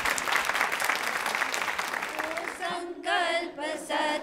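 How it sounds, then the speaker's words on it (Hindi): An audience applauds at a women's association quiz show event to honor a song, clapping densely at first and then giving way to a voice speaking over the fading applause. "आप जोरदार तालियां बजाइए"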